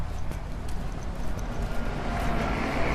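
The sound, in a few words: traffic noise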